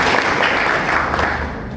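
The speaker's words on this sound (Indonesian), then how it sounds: "Tepuk tangan kepada Tuhan." Church congregation clapping together at an anniversary worship service, a steady dense wash of applause filling the room without pause from start to finish.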